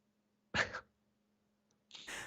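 A single close, sharp human sneeze bursts out in an otherwise quiet setting, followed after a pause by a second breathy, noisy burst.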